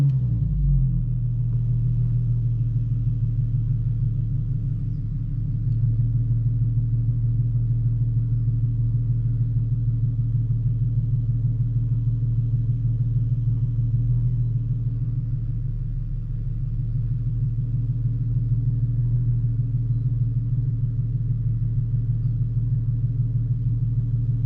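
A Nissan 370Z engine idles steadily at operating temperature during a tuning session, a deep, even low rumble that holds constant throughout with a slight dip midway, loud and close with no talking.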